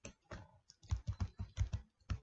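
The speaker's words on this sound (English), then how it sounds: "So here I am typing" Typing on a computer keyboard, a close, quiet run of distinct key clicks in quick irregular bursts with short pauses between.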